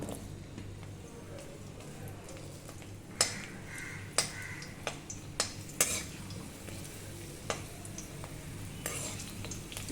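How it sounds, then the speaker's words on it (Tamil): Onion and capsicum cut in large pieces fry in hot oil for kadai paneer, giving a steady low sizzle with several sharp clinks of a utensil against the pan, close by and without talk. "இப்போ இதை எண்ணெயில் பொறிச்சு எடுத்துடலாம்"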